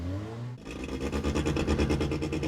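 After a brief lower hum, a race car engine at a circuit roars to life and revs hard, pulsing rapidly and aggressively, close and dominant throughout.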